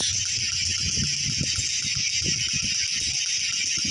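A lato-lato clacker toy rattles in rapid, irregular bursts of hard plastic knocks, near the listener and fairly loud, set against a constant background hiss.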